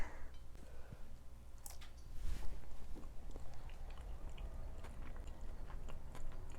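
Close, quiet chewing and soft mouth sounds of someone eating eggs prepared with onions and celery from a 1960s egg cooker, a steady stream of small moist bites with no talking.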